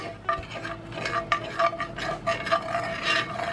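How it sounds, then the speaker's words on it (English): A spatula scrapes browned fond off the bottom of a pan used for searing ribeye steak while a stick of butter melts in, giving repeated rough scraping strokes over a low sizzle. "Going to move that around, get that font off the bottom of that pan where that meat was cooking"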